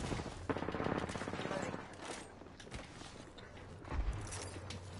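Gunfire exchanges in a battle royale video game, a rapid burst of shots up front giving way to scattered, lower-level fire and game effects, with a player's voice talking over much of it.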